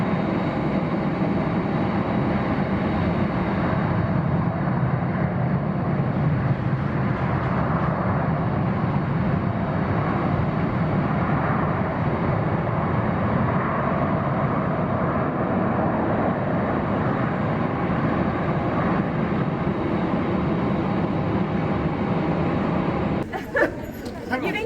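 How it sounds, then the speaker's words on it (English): An airliner at Haneda Airport, heard from the observation deck, produces a loud, steady jet roar that holds unbroken for a long stretch before a brief clatter near the end. "here's the plane that Katie and I are actually on"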